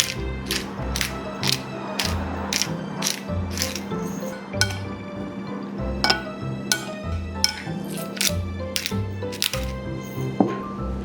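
A pepper grinder cranks fresh pepper into a cherry tomato marinade with vinegar and agave syrup, a close, rhythmic series of ratcheting grinds in short repeated bursts.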